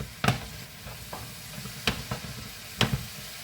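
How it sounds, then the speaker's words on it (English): Chilli con carne with smoked paprika is stirred in a pan: a soft sizzle runs throughout, broken by three sharp scrapes and a few lighter knocks of the utensil. "In goes a little bit of smoked paprika. Right, we mix that all in."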